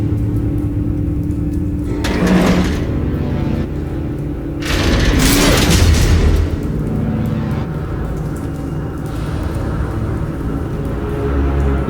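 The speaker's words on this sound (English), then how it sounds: "Someone drove off after the explosion." Two heavy booms with a low rumble from an explosion in the Batman Telltale Series game, each swelling for a second or so over a steady droning background, with no voices.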